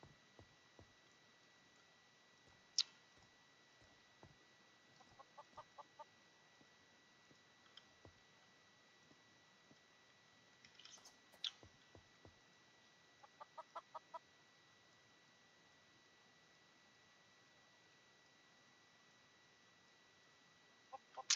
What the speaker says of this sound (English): I always have to get an egg from my chicken.